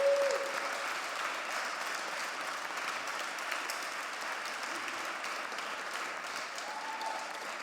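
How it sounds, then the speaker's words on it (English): Steady audience applause fills a room at a public panel event on addressing hate and racism, honoring speakers and panelists; the clapping is dense and even throughout, with faint voices occasionally surfacing beneath it. "Let's please give them a round of applause because it was very courageous."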